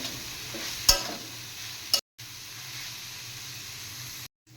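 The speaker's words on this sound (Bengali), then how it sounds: "এবার নুন দিয়ে হালকা আর একটু ফ্রাই করব।" Stuffing fries lightly with salt in a pan; a soft, continuous sizzle runs underneath, broken by a couple of sharp stirring clinks and brief cutoffs.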